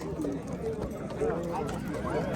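At a busy horse market, horses' hooves clip-clop and shuffle on the ground, moderately close and irregular, under ongoing talk from people nearby.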